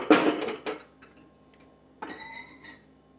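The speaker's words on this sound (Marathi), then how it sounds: "गॅसवर कढई ठेवले।" A metal wok set down on a gas stove with a loud clank, followed by a few lighter scrapes and a second rattle of metal, heard close and alone.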